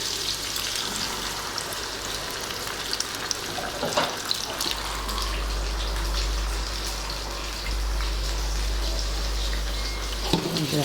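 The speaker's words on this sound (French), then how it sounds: "je vais maintenant rajouter de l'eau." Water pours from a tap into a cooking pot in a kitchen, a steady close gushing stream that deepens in tone as the pot fills, with a brief clatter near the end.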